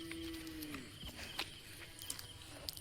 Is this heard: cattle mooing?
yes